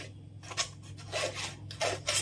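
Maida flour and baking powder are sifted through a sieve for a homemade cake, giving soft scratchy rasps in short bursts as the sieve is shaken and tapped, close by with no talking.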